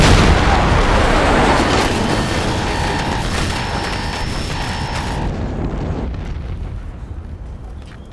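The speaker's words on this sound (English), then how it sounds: "Something just blew up out there!" A big explosion goes off outside an aircraft in an action movie, a heavy rumbling blast that fills the opening seconds and then slowly fades under engine drone and brief electronic beeps.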